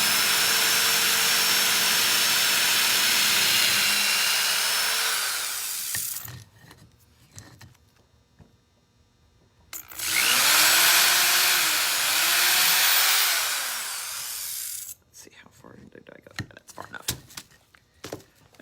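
A power drill whirs loudly at high speed for several seconds, drilling through epoxy and wood, stops, then runs again in a second burst, followed by scattered clicks and handling noises.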